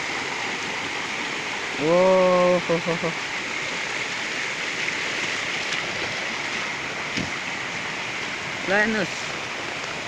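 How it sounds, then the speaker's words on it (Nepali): A rain-swollen stream of floodwater rushes in a steady, loud roar near Begnas Lake in Nepal while rain falls, and a man briefly exclaims over it. "तैपनि हेर्नुहोस् कत्रो भल आइरहेको छ"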